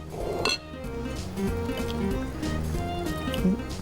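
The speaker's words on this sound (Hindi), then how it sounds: "थोड़ा सा पानी डालेंगे और हम अपनी चटनी बनाएंगे।" A little water poured into a spice mix in a bowl, a short liquid trickle with light clinks of utensils against the dish, close and fairly loud.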